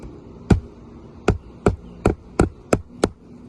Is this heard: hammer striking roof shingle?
yes